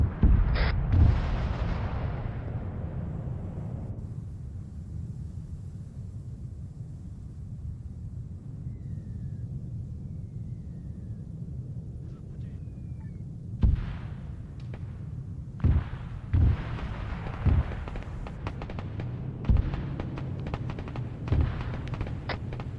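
Artillery rounds impacting in the Arma 3 combat game: a sharp blast at the start, a long rumbling background, then a series of distant booms spaced irregularly through the second half.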